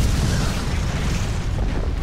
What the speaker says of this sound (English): That explosion?